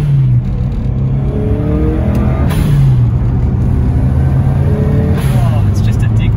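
A 1999 Subaru Impreza WRX engine revs up and drops back repeatedly, its tone sweeping higher with each loud, close burst of throttle over a steady rumble.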